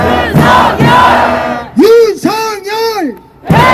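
Crowd at a young right-wing rally in Hannam-dong chanting a slogan in unison, loud call-and-response bursts of shouted voices with drawn-out syllables, separated by short pauses.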